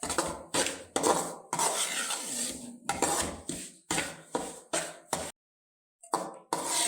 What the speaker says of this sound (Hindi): हल्के चूल्हे पे हम इसको भून रहे हैं।